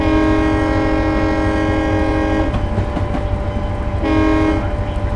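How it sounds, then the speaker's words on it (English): A locomotive horn blares at a grade crossing in Train Simulator 2015 on the Johnstown to Altoona line, a loud sustained chord in two long blasts separated by a pause, over the steady rumble of the moving train. "There is now a crossing coming up, so I'm just going to sound my horn."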